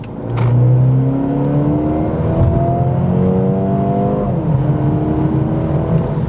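A Mercedes-AMG CLA 35 4MATIC accelerates hard on an open road from 60 to 120 km/h. The engine drone climbs steadily through the gears, loud and continuous, and there is a brief dip at a shift.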